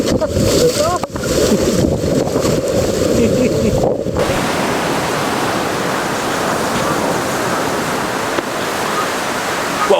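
Ocean waves washing onto a sandy beach, a loud continuous surf roar with wind buffeting, people talking over it in the first few seconds.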